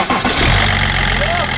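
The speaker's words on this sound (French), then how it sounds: "Fais juste le contact, je vais tapoter dessus, elle va repartir." An Audi A1 with a faulty pump turns over and catches after the pump is tapped. The engine fires and settles into a close, steady idle, with some voice mixed in.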